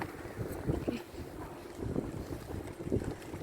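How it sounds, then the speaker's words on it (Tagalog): Cold wind gusts buffeting a microphone outdoors, a steady low rumble with uneven swells rising and falling throughout, no voices. "Hangin na malamig."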